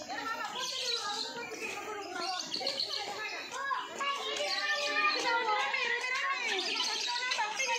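Birds chirp and tweet busily at a bird park during a school field trip, with bright repeated calls layered over the chatter of children talking and playing nearby.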